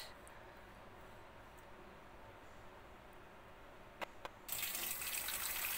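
A kitchen tap runs steadily as raw anchovies are rinsed for kinilaw, a low continuous hiss of water. It swells into a louder, brighter gush near the end.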